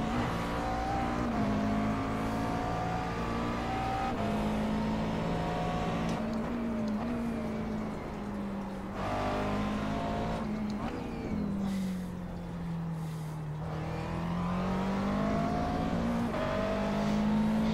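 A McLaren MP4-12C GT3 race car engine in the iRacing simulator at Road Atlanta drones steadily, its pitch rising and falling through upshifts and braking, loud and continuous across the lap with brief tire noise.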